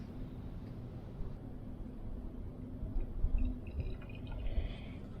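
Vinegar trickles into the seized engine of a forgotten lawn mower, a faint, low liquid dribble with soft drips over a dull background hum, rising slightly toward the end.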